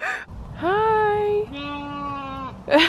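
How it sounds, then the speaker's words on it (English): A baby sheep bleats twice in a row, a long wavering cry followed by a second lower steady one, close and clear outdoors, with a brief voice at the start and end. "Baby sheep."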